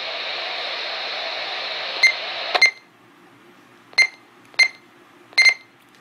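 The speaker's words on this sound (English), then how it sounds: "And it'll beep twice like so." An Icom IC-V82 handheld radio being programmed: a hiss of static cuts off, then short, clear electronic beeps sound close up, mostly in pairs.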